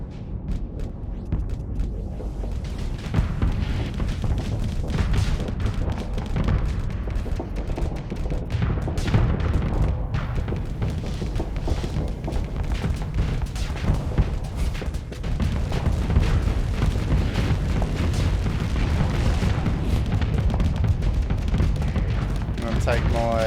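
Weapons fire and explosions rage in a space strategy video game, a dense, continuous barrage of booms and rapid shots with someone talking over the din.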